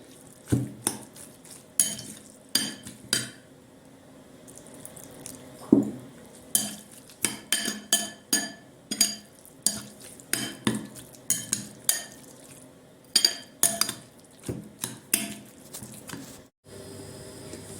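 Spoon stirring ground meat and water into a börek filling in a bowl, with repeated sharp scrapes and clinks in an uneven rhythm, close and moderately loud, with no speech.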